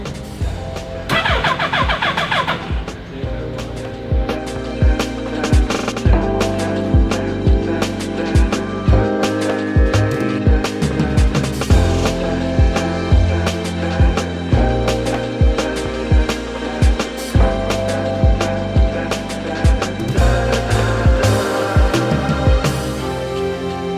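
A car engine cranks in a steady rhythmic churn, then fires and runs loudly and close, with the idle rising and falling as it catches.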